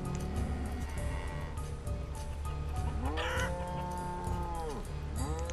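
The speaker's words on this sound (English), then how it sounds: "Little baby cows, just cute." Cattle, including calves, mooing in the town-building video game Banished: several drawn-out, rising-and-falling moos over a steady background of game ambience, with a farm fowl sound mixed in.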